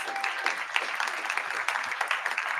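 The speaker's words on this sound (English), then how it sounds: "Give this panel another round of applause." An audience applauds a panel at an event on environmental racism and Citigroup, a dense, steady clapping close by.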